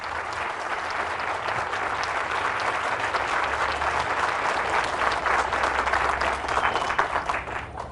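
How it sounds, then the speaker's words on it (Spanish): A church congregation bursts into strong applause after a Gospel reading, a dense, steady roar of many hands clapping without pause for the whole stretch. "Fuertes aplausos a la palabra del Señor"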